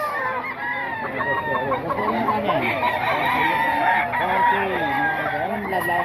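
Roosters crow in overlapping calls near and farther off, with clucking chickens and a busy backdrop among gamefowl for sale, a brief burst of loud crowing throughout.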